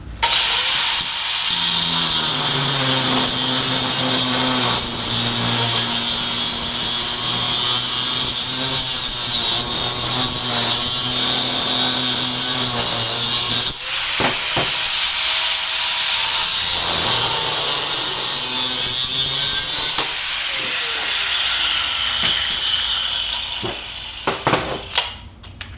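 Grinder undercutting a steel tube for a tube chassis front end: a loud, continuous high-pitched grinding whine with a brief break midway, close and alone without talk.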